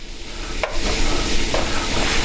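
Fatty meat sizzles steadily in a frying pan while a utensil stirs and scrapes it, with a couple of brief scraping strokes over the constant close frying hiss.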